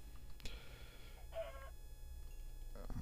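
Chickens cluck in the Minecraft Tekkit video game, giving a few faint, short clucks spaced apart over a quiet background hum.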